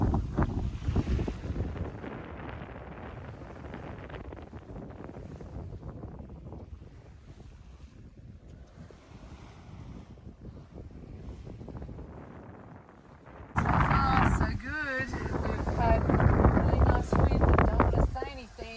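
A sailboat under way offshore in Indonesia, close-hauled in about 10 knots of wind at 6.5 to 7 knots: steady wind buffeting and water rush throughout, turning louder and brighter with splashing and gusts near the end, with voices faintly mixed in.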